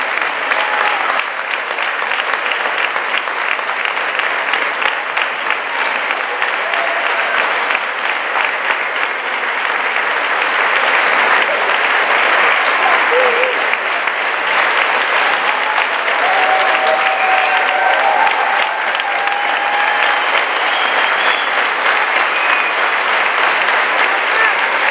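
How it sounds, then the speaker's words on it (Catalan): Loud, sustained applause from a school concert audience for the music specialists at a children's singing event in Argentona, a dense wash of clapping that holds steady throughout, with faint voices mixed in. "per qui demanem un fort aplaudiment i que ens acompanyin aquí"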